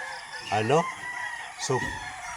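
A McLean gamefowl rooster at a gamefarm gives two short, close crows about a second apart, loud against a quiet background with faint ambient hiss.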